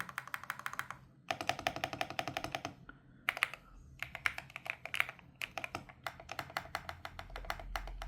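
Rapid clacky keystrokes on an MSI Forge GK600 TKL wireless mechanical keyboard, typed in bursts with brief pauses, crisp and close, with no voices.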